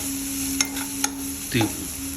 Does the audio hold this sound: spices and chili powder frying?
yes